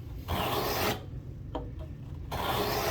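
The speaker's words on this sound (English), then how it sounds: "if you're cutting a 3/8 deep sliding dovetail, you may not need more than 20 pulls" A hand saw cuts a sliding dovetail in wood with rasping strokes, two long pulls separated by a quieter pause with small scrapes, close and clear.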